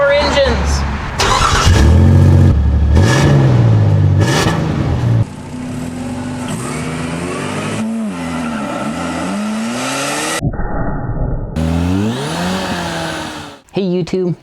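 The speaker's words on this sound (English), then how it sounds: "start your engines!" Race car engines rev hard and tires squeal in a loud, dense burst of roaring and shifting engine tones, with a voice speaking over parts of it.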